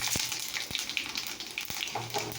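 Panch phoron spices sizzle in hot oil in a kadai, making a soft, continuous hiss and crackle broken by a few faint clicks and taps, quiet and close with no talking.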